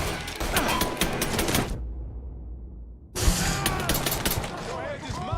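Gunfire in Mafia III, rapid bursts of shots rattling together at close range, a short hush, then another loud volley of fire with clattering impacts.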